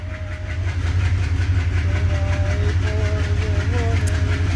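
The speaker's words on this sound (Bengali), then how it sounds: "এই ট্রেন আসছে ভাই, স্টেশনের রেলগাড়িটা।" A train arrives at a station with a loud, steady low rumble and a rapid, regular clatter, while faint wavering tones drift above the noise.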